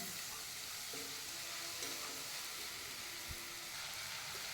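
Mint and coriander leaves sautéing in a pan, a soft steady hiss of frying with a few faint stirring knocks, quiet and continuous.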